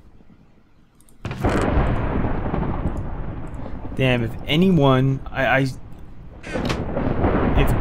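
Loud, close thunder from a nearby lightning strike in a storm, a sudden crack followed by a long, heavy rumble that persists throughout, with a voice exclaiming briefly over it.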